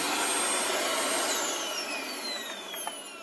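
A Dyson DC25 upright vacuum cleaner with a replaced electric cord runs with a loud, steady whine close by. A high tone slowly falls as the motor settles, and there is no talk.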